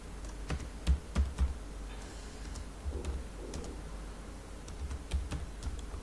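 Close computer keyboard typing for a web sign-up form heading, with a quick run of distinct key clicks early, then scattered softer taps over a faint background hum.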